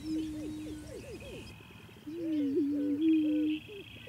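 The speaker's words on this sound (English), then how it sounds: "home to a growing number of prairie chickens, a native bird" Prairie chickens call at sunrise on Iowa's Kellerton Grasslands, low hooting, booming notes: a run of short rising notes then a longer warbling moan, with fainter birdsong in the background.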